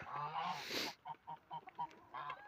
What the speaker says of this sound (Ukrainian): Хто там просив гусей, будь ласка, дивіться, любуйтеся. Це велика сіра порода